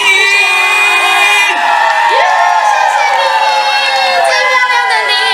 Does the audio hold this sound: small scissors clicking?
no